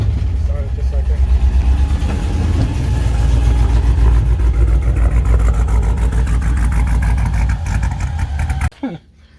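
An LSA V8 swapped into a 1987 Camaro IROC-Z idles loud and rough right after a push-button start, with a steady lumpy rumble through most of the stretch before it cuts off near the end; someone talks over it.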